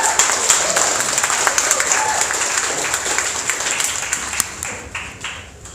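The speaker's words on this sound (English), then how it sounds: "Please make a loud round of applause for Tomoto." Loud, dense applause and cheering from a demo day crowd as a startup pitch team comes on stage, steady throughout and tapering slightly at the end.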